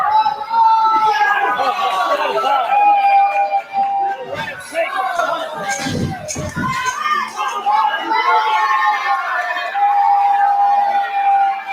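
A wrestling crowd at a virtual event keeps up a loud, dense roar of many overlapping voices, with shrill shouts and sustained yells rising and falling throughout and a brief burst of heavier noise midway.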